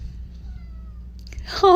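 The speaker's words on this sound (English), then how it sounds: "Sorry if you hear her meowing." A cat meows on the other side of a closet door, a short muffled call rising at the end of a quiet stretch, with a low room hum underneath.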